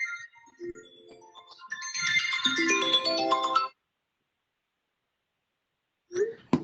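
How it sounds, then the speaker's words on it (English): A mobile phone ringtone plays as a bright melodic jingle for a few seconds, interrupting a man's lecture, then stops abruptly before a short burst of further sound. "Sorry, my phone is ringing."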